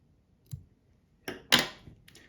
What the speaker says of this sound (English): And I can cut off the excess.